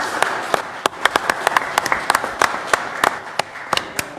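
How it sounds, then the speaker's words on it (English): Sparse applause from an audience at a city council meeting, a few people clapping in a loose, uneven rhythm with distinct sharp claps standing out over a quiet room. "So you can clap."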